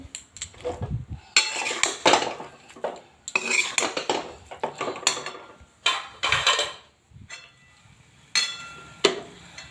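Metal utensils clink and scrape against a bowl while wheat flour sheera is served into it, irregular bursts of close knocks and scrapes separated by short pauses.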